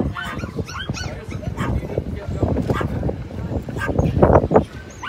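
Many rescue dogs bark, yip and whimper in a busy chorus at a dog rescue, frequent overlapping barks throughout and louder near the end, with people talking under and between them.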